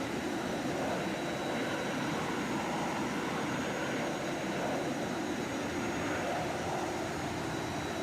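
A jet engine in the Prepar3D flight simulator drones in a constant, loud, unchanging whine and roar with a thin steady tone on top and no speech.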